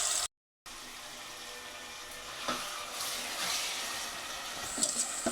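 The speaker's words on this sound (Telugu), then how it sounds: "ఆయిల్ హీట్ ఎక్కింది. ఆయిల్ వేసేసుకున్నాం చికెన్" Chicken pieces fry in hot oil, a steady broadband sizzle close up with a few faint clicks of utensils near the end, after a short drop to silence at the start.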